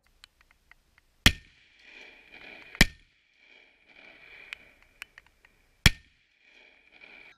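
A 12-gauge shotgun loaded with 00 buckshot fires at a Cold Steel synthetic buckler shield outdoors, giving three sharp, separate reports a second or more apart, with faint rustling and small clicks between them.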